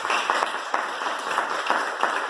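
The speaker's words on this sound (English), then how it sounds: "Give them a round of applause for me." An audience claps at a women's success summit media launch, a dense, steady patter of many hands applauding close by without pause.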